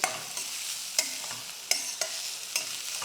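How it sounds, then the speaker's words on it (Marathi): Onions being sautéed in a pan for capsicum zunka, a besan-coated bell pepper dish, with soft sizzling and repeated sharp scrapes and clicks of a spoon stirring, alone without talk. "आता कांदा आपल्याला एक दोन मिनटं दोन ते तीन मिनटं परतून घ्यायचं"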